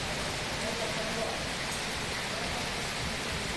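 Rain mixed with hail pours down on an evening in Bengaluru, a steady, dense broadband wash of falling water that holds unbroken for the whole stretch, with no separate hailstone impacts standing out.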